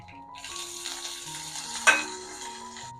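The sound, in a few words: frying curry leaves, mustard seeds and urad dal in oil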